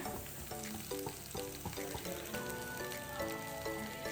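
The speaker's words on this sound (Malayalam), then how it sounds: "ആ ചൂടായ ചട്ടിയിലേക്ക് നമ്മൾ ഈ വാഴയിൽ അങ്ങ് ഇറക്കി വെക്കുവാണ്" Anchovies wrapped in a banana leaf sizzle steadily in a hot pan, a dense continuous frying hiss with faint music running underneath.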